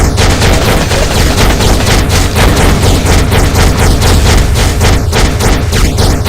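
A dense, loud barrage of rapid machine-gun fire and explosive booms from the Marvel Future Fight game, continuous and unbroken throughout without pause.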